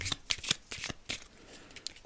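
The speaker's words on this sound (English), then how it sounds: "Okay, shuffle these up here." A deck of cards being shuffled close up, with several quick riffling bursts in an uneven rhythm, loud at first and then softer, with no talk over it.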